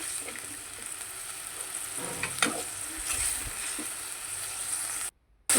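Spices for a pangas fish dish are fried in oil in a pan, giving a steady loud sizzle with occasional stirring scrapes, then a brief gap of silence near the end before the sizzle resumes.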